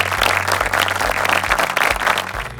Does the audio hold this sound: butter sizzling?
no